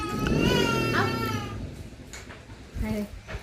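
A cat gives a drawn-out, wavering meow at close range, followed by fainter sounds while a person talks.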